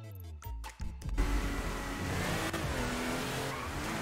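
Toyota Supra drift car in the GTA 5 video game, a few engine revs giving way to a sustained roaring engine with tire squeal and skidding, loud and continuous.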